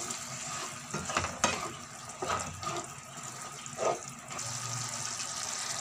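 Carrots stirred in a frying pan with a vinegar mixture and sea bass, giving soft scraping and clinking of a utensil over a steady close sizzle, with a few louder knocks and no talking.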